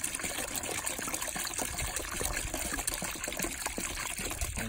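Trap dip solution being poured into a 2-gallon bucket, a steady close trickling and splashing of liquid throughout with no talk.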